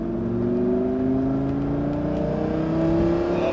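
A Lamborghini accelerates hard on the Circuit du Sambuc, a loud, close engine note climbing steadily in pitch as it holds the throttle, with no talk over it.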